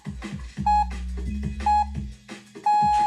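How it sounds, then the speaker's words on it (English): A workout interval timer gives three short, sharp electronic beeps at about one-second intervals over loud thumping music with a heavy beat. "Wait for those beeps, don't stop."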